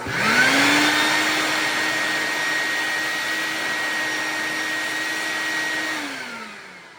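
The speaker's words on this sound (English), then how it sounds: "I'm just going to vacuum that up before that gets down in here." A vacuum cleaner runs near a 1978 John Deere Liquifire snowmobile engine, spinning up quickly to a steady loud whine with a high tonal edge, holding for several seconds and then winding down at the end, alone without talk.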